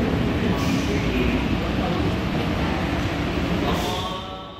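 An airport terminal shuttle train at Dubai International Airport runs with a loud, steady rumble and hiss, then fades slightly as it slows near the end.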